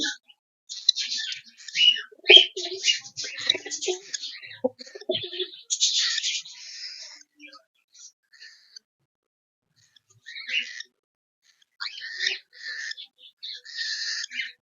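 Two cockatiels, a lutino and a pied, calling in shrill, chirpy bursts that come close and loud, with short pauses between the phrases.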